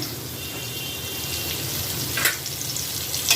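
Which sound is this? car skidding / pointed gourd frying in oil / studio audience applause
pointed gourd frying in oil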